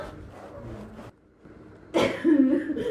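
A couple of rough, throaty coughs close up, the second louder, after a brief pause, with faint background sound.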